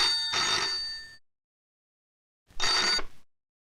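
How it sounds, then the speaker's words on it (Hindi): Two bursts of an old telephone bell ringing, the first about a second long and the second shorter after a silent gap, fairly close and clear. "रूबी के नौकर को फोन करके"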